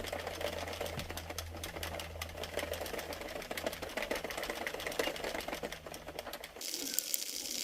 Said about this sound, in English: Now continue cranking around for 40 more rows for this color.